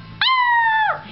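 A beagle puppy lets out a single sustained, steady howl lasting under a second, loud and close, with a faint low background hum before and after.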